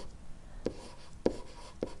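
A marker taps and squeaks on a board while words are outlined, three short distinct strokes spaced evenly, close and quiet with no talking.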